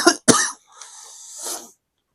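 A person coughs twice in quick, sharp bursts, then gives a longer raspy, breathy exhale, close and alone.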